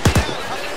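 A grenade launcher in a video game fires two quick, loud, close thumps in rapid succession, followed by a brief fading tail.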